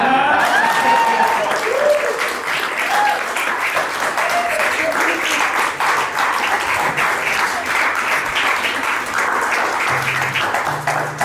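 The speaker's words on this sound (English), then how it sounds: "Clap!" Loud, sustained audience applause fills a comedy special's closing moments, dense clapping holding steady throughout with a few scattered voices and cheers mixed in.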